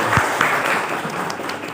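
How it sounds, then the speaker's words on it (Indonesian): An audience at the opening of a digital learning media training for teachers gives a short burst of applause, moderately loud and close, with a few distinct claps standing out from the dense patter. "Boleh tepuk tangan."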